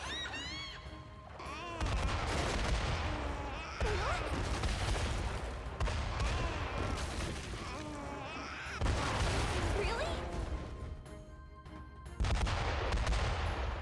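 Explosions in the video game Metaphor: ReFantazio arrive as repeated heavy booming blasts in several loud bursts, with game voices and effects mixed through the rumble.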